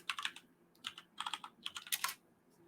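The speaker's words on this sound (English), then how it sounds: "so let's just type in Kahila." Quick bursts of keystrokes on a computer keyboard while entering a fragrance name, in three short clusters of clicks with brief pauses between, close and fairly quiet, no talking.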